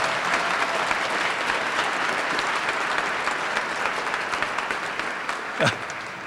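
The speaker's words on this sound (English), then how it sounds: "Let's give him another big round of applause." Steady, dense applause from a large crowd in a rotunda at a rally, sustained throughout at an even level, with a faint voice briefly rising near the end.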